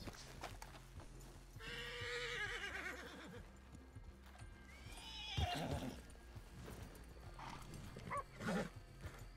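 Horses in Red Dead Redemption 2 whinny loudly twice amid steady clip-clop hoofbeats, with a few further snorts and thuds near the end.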